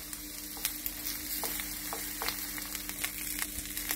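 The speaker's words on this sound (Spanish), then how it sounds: "Apartamos el tomate y echamos los langostinos y las gambas." Prawns and shrimp frying in a pan with fresh tomato for a seafood paella, a steady close sizzle with occasional soft pops and stirring clicks.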